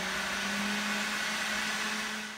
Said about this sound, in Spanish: Y ahora lo vamos a llevar a la licuadora.